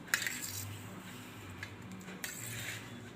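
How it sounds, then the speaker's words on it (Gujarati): A ghee-coated metal spoon stirring peanut sing pak sweet in a pan gives a few sharp, quiet clinks and scrapes spaced across a few seconds over a soft background. "તો હવે આપણે આ ઘીવાળી ચમચી છે એને આ રીતે આપણે ફેરવી દેવું"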